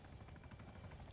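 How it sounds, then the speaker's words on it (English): A helicopter in the military video game Arma 3 drones with a steady, faintly pulsing rotor thrum, distant and low in level, with no voices. "Helicopter."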